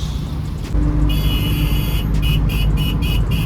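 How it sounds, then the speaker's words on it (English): A vintage 1970s–80s buggy vehicle driving along a road in Jamaica, loud steady engine rumble with a tonal whine and intermittent high-pitched chirps or squeaks pulsing over it. "This is what you hear, 70s, 80s vehicle, buggy. Alright, this is it, vintage."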